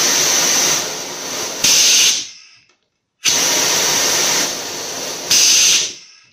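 Air hisses sharply through a pneumatic cylinder fitted with a flow restrictor in two near-identical cycles, each a long steady blast that jumps louder partway, then tails off, with a short silence between cycles.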